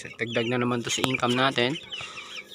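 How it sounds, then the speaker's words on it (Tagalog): Large Dekalb chickens cluck and call on a farm in loud, close, pitched bursts, while someone speaks beneath them. "babalik tayo dun sa ating mga manok na malalaki na tulad nyan"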